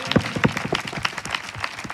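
A congregation at a Christian revival prayer meeting claps for the Lord in a steady, regular rhythm, with close, sharp claps repeating about three times a second.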